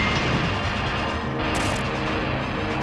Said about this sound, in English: We're gonna blow up one of the batteries in here.